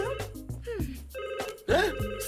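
A cartoon telephone bell rings in repeated bright trilling bursts, loud and close, alternating with short tonal cartoon music and effects.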